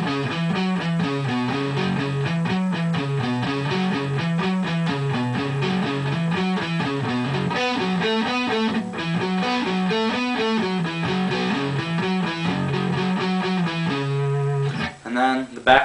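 A distorted electric guitar plays a song, a steady rhythmic riff of repeating chugging notes that runs loud and alone for about fourteen seconds before stopping with a brief scrape.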